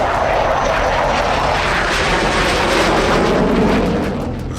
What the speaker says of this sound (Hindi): रूस के सुखोई लड़ाकू विमानों ने इस दौरान आसमान में अपनी ताकत दिखाई।